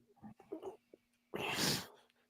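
A single loud, close sneeze bursts out after a few quiet breaths and small sounds, indoors against a faint electrical hum.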